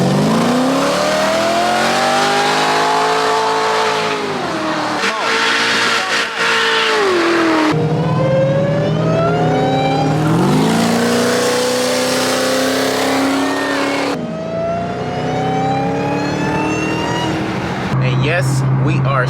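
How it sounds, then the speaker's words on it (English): A Dodge Hellcat engine revs hard and repeatedly while the car slides, its loud, rising and falling roar close and continuous, with tire squeal mixed in and voices faintly in the background. "we are sliding the Hellcat right now"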